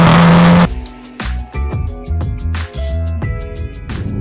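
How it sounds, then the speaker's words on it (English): A Volkswagen Golf R with a titanium sports exhaust revs hard, loud and close, with a sharp blip followed by several rising and falling throttle bursts and crackling exhaust pops between them. "this one I've got here does have the titanium sports exhaust"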